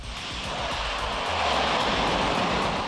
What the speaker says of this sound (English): watch the final water landing test of the year of the Orion crew capsule